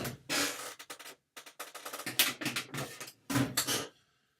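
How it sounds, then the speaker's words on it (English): A package of two Canon EOS 7D camera batteries is torn and pulled open by hand, no scissors used. Close, irregular bursts of crinkling and ripping packaging come between brief pauses, with no talking. "So I'll try to open this without pulling out the scissors."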